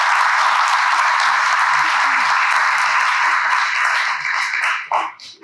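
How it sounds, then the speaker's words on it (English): A dinner audience at a medical-legal event applauds its panelists. The clapping is loud and continuous and tapers off unevenly near the end. "How about a round of applause for our panelists if you can."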